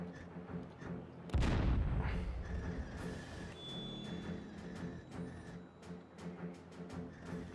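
Heavy weapon fire in the mech combat game Chromehounds: one loud, booming shot with a long rumbling tail, then quieter mechanical game sounds.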